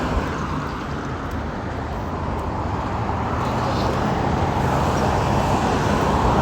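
Steady roadway traffic roars along a street beside a pedestrian, a dense continuous wash of car noise that swells slightly toward the end, with no talking.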